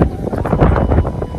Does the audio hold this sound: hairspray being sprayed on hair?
no